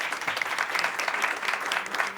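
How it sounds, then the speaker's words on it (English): A room of attendees at a Capitol Hill briefing on charter schools breaks into dense, steady applause, many hands clapping evenly throughout without a break. "Give them a round of applause as well."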